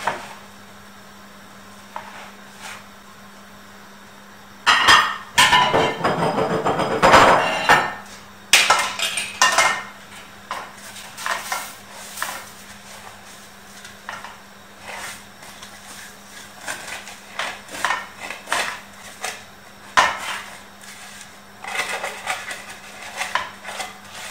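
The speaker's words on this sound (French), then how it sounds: "Je vais la passer au tamis, justement pour séparer les graines." Couscous grains for a vegetable couscous shaken through a kitchen sieve, a dry rustling and scraping with light metallic clinks, louder in bursts around the middle and then continuing in softer intermittent shakes, with no talk.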